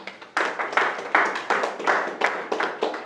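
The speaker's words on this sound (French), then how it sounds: "Applaudissez pour lui." Several audience members clap after a participant's role-play at a French-language talk on making friends, giving short, uneven bursts of close hand claps that rise and fade in waves.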